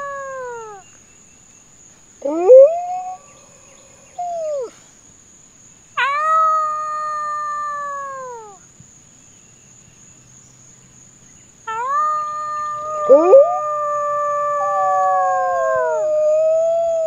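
Several long, mournful wolf howls rise and fall, overlapping at times, with pauses between them and a faint high insect whine in the background.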